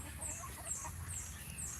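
Hens cluck softly at a distance over a steady background hiss, with a few faint bird calls mixed in, at a rural home in the province.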